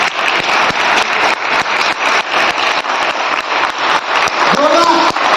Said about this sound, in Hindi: और एक बार मैं चाहता हूं कि अपने लिए बहुत जोरदार ताली।